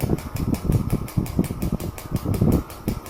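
A Harley Davidson big bike engine runs with a steady, rumbling, pulsing idle throughout, close and fairly loud, with no talk over it.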